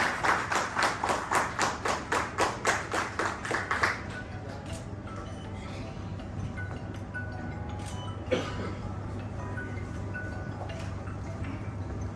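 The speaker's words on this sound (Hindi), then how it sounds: "आप सभी प्लीज जरा एक बार तालियों से उनका वेलकम करेंगे।" Audience at an international awards and convocation ceremony in Indore claps steadily in a rhythmic burst of applause for a guest taking the stage, then fades into hall ambience with a low hum.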